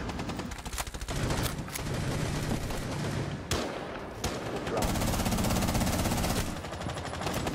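Rapid automatic gunfire and single shots in the video game Rainbow Six Siege, loud and dense bursts nearly continuous throughout with a few brief gaps, mixed with game sounds.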